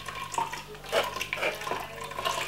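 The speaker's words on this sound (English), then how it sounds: "So once you get your strainer, strain it all out of the way" Ginger water poured through a strainer gives a faint, soft trickle and splash in a kitchen, quiet liquid running in short uneven bursts.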